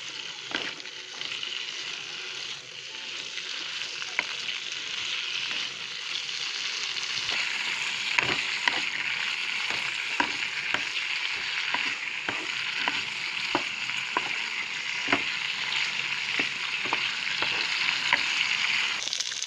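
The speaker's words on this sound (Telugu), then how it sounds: "ఇలా పచ్చిమిర్చి ఫ్రై అయ్యేంత వరకు ఫ్రై చేసుకుందాం" Green chillies frying in oil on a stove give a steady bright sizzle that gradually grows louder, dotted with frequent sharp pops and crackles, close up with no talking.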